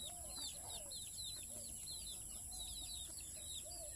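Chickens and a mother hen in a rural farmyard, with repeated high chirps from chicks and a few low clucks scattered throughout over steady outdoor background noise.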